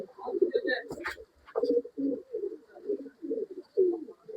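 Roshan pigeons coo in a loft, a series of soft, low, rolling coos repeating close by every half second or so, with a brief flutter or scuffle near the start.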